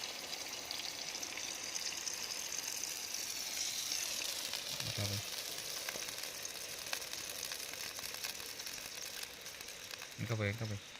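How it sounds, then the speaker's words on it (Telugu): Water poured into a cooking pot over an open fire at night in a forest, heard as a steady rushing, sizzling wash with a voice speaking briefly now and then. "వాటర్ వేసుకుంటున్నాము."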